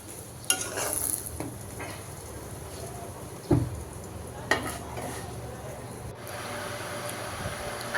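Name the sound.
eggs and paratha frying in pans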